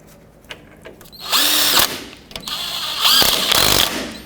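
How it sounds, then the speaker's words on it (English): A power drill drives shock mounting bolts on a Chevrolet Express van in two loud whirring bursts, each rising and holding, with a short pause between them. "Start your bolts in."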